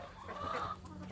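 Chickens eating outdoors, a brief quiet cluck over faint background.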